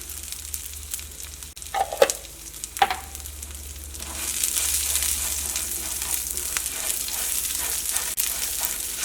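Close-up stirring of a frying mixture with asafoetida in a pan, a continuous crackling sizzle with scraping strokes and a few louder knocks of a spoon early on.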